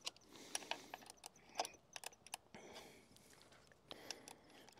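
Ratchet wrench with a 10 mm socket loosening a lock nut on a Yamaha Tenere 700 rear wheel, a quiet close series of quick clicking bursts and metallic taps in uneven rhythm, no speech.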